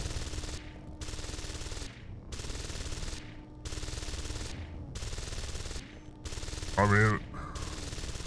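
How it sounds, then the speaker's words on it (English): Sustained automatic gunfire from a hacked turret in the game Deus Ex: Invisible War, long rattling bursts broken by short pauses, with a brief spoken remark near the end. "Are you shooting?"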